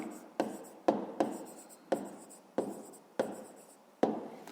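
A pen writes an answer by hand on paper during a fifth-grade maths exercise, producing close, quiet scratching in six or seven rhythmic strokes, each starting with a sharp tap and fading away, with no talking.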